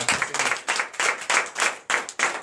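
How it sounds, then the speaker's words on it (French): Congregation at a night prayer and deliverance service in Comè, Benin, clapping in loud, rhythmic bursts, a regular beat of hands struck together in quick repeating groups. "Donnez de vive acclamation."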